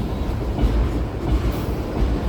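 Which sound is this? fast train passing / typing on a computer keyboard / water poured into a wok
fast train passing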